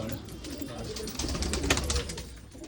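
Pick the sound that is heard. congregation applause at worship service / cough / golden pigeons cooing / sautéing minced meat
golden pigeons cooing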